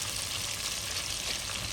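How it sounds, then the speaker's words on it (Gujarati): Surmai fish fries in hot oil in a home kitchen, a dense steady sizzle with faint crackles throughout, close and moderately quiet, with no voices. "આપણે માછલા તળી નાખવાના છીએ."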